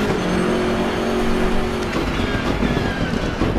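Race car engine in the racing game Assetto Corsa Competizione, a loud continuous drone with a steady pitch that shifts slightly as the car runs.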